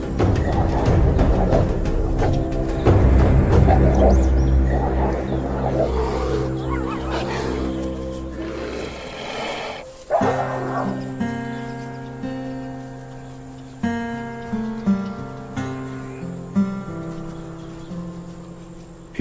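Wolves confront a grizzly bear in the wild, with loud, rough growling and roaring for the first half, then quieter intermittent snarls over a tonal background.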